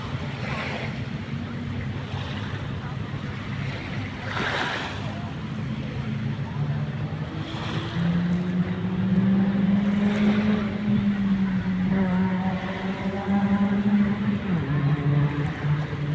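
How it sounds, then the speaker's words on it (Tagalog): A motorboat engine drones and rises in pitch over wind and lapping water near Manila's Dolomite Beach, with a voice talking intermittently on top. "Marami rin mga barkong malapit dito."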